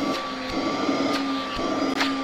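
INGCO vacuum cleaner running at its lowest speed: a steady, close motor hum with a constant whine and airy rushing, continuous and unbroken, with no talking.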